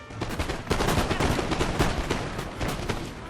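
Musket volleys crackle in the Napoleonic-era strategy game Total War: Napoleon, dense overlapping shots rolling continuously and loudly with sharp peaks throughout, no speech.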